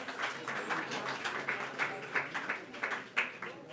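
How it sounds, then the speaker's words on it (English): Audience applause greets kirtan singers at a Diwali celebration, a dense patter of clapping sustained throughout with a murmur of voices underneath. "Let's give them a big round of applause, a big Haribol, a big Happy Diwali"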